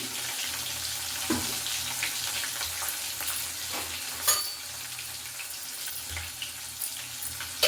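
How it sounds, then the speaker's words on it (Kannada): Green chillies fry in a pan while a tamarind rice dish is being made, giving a steady, close, crackling sizzle throughout, punctuated by a few brief clinks and scrapes of stirring, with no talking. "ಈಗ ಮೆಣಸಿನ್ಕಾಯಿನ ಹಾಕ್ಕೊಳ್ತಾ ಇದ್ದೀನಿ."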